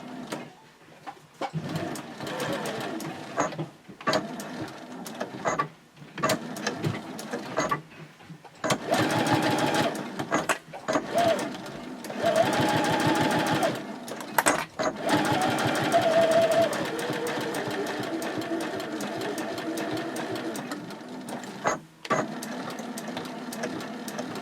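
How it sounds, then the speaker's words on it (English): Sewing machine stitching a 3/8 inch seam with a 2.6 stitch length, running in short bursts that lengthen into longer continuous runs, close and fairly loud, with brief handling pauses between runs. "you're going to sew each one of these sides with a 3/8 inch seam"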